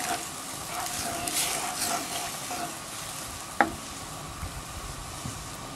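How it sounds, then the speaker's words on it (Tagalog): Sponge gourd and shrimp juice sizzle and crackle in a hot pan while a utensil stirs and scrapes, with one sharp clink of metal partway through. "Okay, haluin natin."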